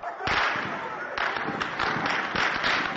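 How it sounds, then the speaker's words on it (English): Several sharp cracks of gunfire, irregularly spaced, over a constant roar of crowd noise in a muffled, distant recording, from security forces dispersing protesters in Syria. "These gunshots are believed to be from Syrian security forces"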